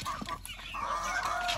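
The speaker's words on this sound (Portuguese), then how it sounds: "Mais uma da galinha amarela com, com galo da baia cinza" Balão GSB hens and roosters cluck and squawk in short, close bursts with no talk over them.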